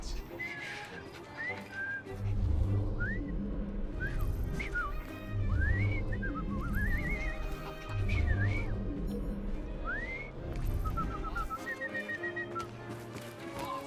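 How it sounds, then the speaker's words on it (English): A man whistles a rising, tuneful melody in a Victorian street scene from Assassin's Creed Syndicate, repeated short phrases over about fourteen seconds, with faint crowd murmur, hooves and ambient bustle underneath. "I've just learned to whistle."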